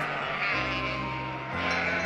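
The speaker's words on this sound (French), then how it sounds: "le bêlement des moutons" Sheep bleat out at night near a shepherd's stable, a few drawn-out wavering cries that sit fairly close over a quiet background.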